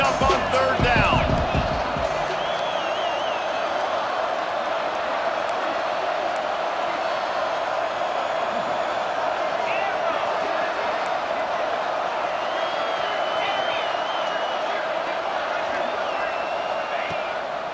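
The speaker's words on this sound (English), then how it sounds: "Crowd getting this defense whipped up on third down." College football video game stadium crowd roars steadily on third down during Wake Forest vs Ole Miss, a dense continuous wall of cheering, with a few sharp thumps at the very start.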